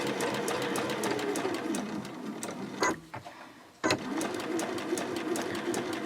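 A domestic sewing machine stitches a mini Christmas stocking, humming rapidly and continuously up close, with a brief pause at a pivot before the stitching resumes at the same steady pace.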